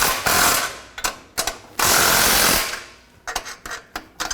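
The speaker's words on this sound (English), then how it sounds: "Take a 15mm socket, tighten these down." A ratchet with a 15mm socket tightens exhaust bolts on a 2007-2014 Chevrolet Silverado 2500 HD. It gives up close with bursts of rapid clicking, some long and some short, and brief pauses between them.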